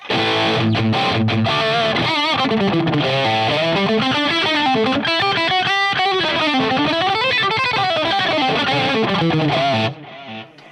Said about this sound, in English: So the Fender sounds like this now in the Quad Cortex.